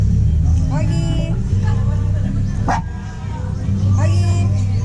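Dogs bark at intervals at an outdoor resort, with several loud close yaps amid people talking and a constant low traffic rumble behind.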